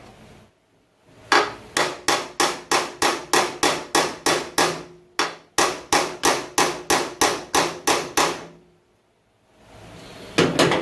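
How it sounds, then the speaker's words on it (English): Steady hammer strikes on a Foxbody Mustang door, about twenty in a quick even rhythm, loud and close, pausing briefly midway, then another burst starting at the end. "Little hammer action."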